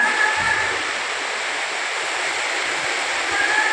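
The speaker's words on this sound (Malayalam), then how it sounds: "അടിപൊളി മഴ" Steady heavy rain hisses without letting up, a dense, even roar of falling water with no voices.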